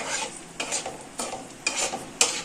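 Cashews and raisins fry in a pan for pulao. Four or five quick scraping stirs sweep through a light sizzle, close up and without talk.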